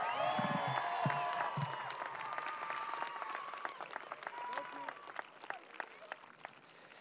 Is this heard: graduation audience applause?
yes